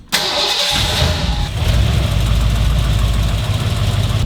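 The engine of a 1977 Ford F100 pickup from Mexico, fitted with a new exhaust, cranks briefly, catches and settles into a loud, steady rumbling idle close by.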